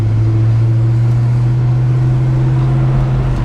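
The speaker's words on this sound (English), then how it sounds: "we're gonna take it for a test drive so you can decide if you want to put this Mustang in your driveway" A 1989 Ford Mustang on a test drive, its engine holding a loud, steady low drone inside the cabin with no change in pitch, no talking.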